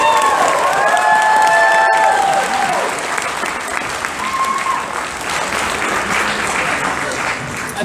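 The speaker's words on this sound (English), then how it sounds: "Can we give it a big round of applause?" An audience at Sakura Con 2019 breaks into loud, sustained clapping and cheering for a certificate presentation, with a few shouts over it before the clapping thins out.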